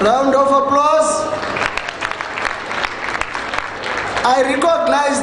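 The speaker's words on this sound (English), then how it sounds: "Round of applause." Crowd at a World AIDS Day launch event applauding the Deputy President, a dense sustained patter of clapping with a speaker's amplified voice over it at the beginning and again near the end.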